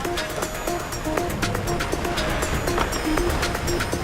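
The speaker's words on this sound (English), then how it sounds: "Big breeze and big waves here at the top of the track." Strong wind and rough waves rush around sailboats during a match race at the Congressional Cup, giving a steady loud wash of water and wind broken by short, repeated electronic beeps.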